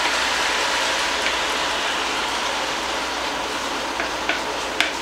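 Beef sizzles in a pan as stir fry sauce goes in, producing a dense, even hiss of frying with a few small pops and clicks near the end.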